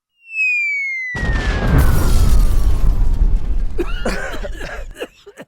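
A descending whistle falls in pitch, then a loud explosive boom bursts and rumbles on for a few seconds before crackling debris sounds trail off.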